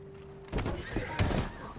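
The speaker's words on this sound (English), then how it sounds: "Alright, it's best to release these horses too." A horse whinnies and snorts close by after being unhitched from a wagon in Red Dead Redemption, with a few dull thuds and hoof knocks around it; no one talks.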